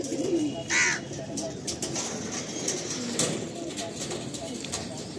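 Madrasi pigeons in a loft give soft, low cooing throughout, with a brief louder call near the start and some crow-like calls mixed in, close by and steady.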